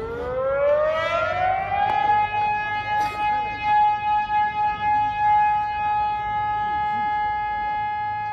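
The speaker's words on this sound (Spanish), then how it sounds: "se dejó escuchar la alerta sísmica" Seismic alert siren during an earthquake drill in Chiapas, rising in pitch and then holding a long steady wail while faint, rhythmic pulsing sounds run beneath it, with no talk.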